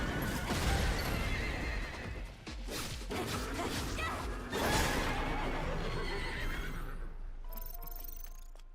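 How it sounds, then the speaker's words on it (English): In the video game Stellar Blade, a horse neighs and whinnies loudly with clip-clopping hooves, whooshes and crashes around it during a fight, with no voices. "The horse sound is a little disturbing"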